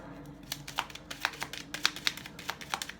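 Quick papery riffles and soft snaps of tarot cards being shuffled, irregular and close, with a light hum of room noise beneath.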